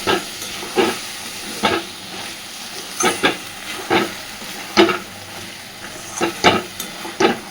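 Water lily curry being stirred and mixed in a pan, the spoon scraping in a steady run of distinct strokes about every second over a soft background sizzle, with no voices.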